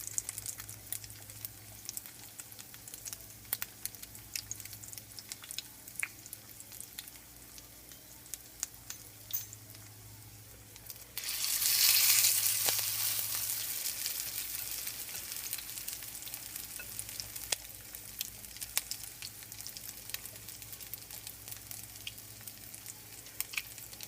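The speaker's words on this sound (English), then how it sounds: "And just let them fry till they're golden brown on each side." Salmon patties fry in a pan with a steady quiet sizzle and light crackle that swells into a louder hiss midway and then settles back, with no talking.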